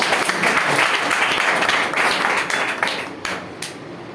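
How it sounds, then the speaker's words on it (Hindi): Loud, sustained applause from a seated audience at a business plan presentation, dense clapping filling the whole stretch and thinning slightly near the end. "जोरदार तालियां सबके लिए"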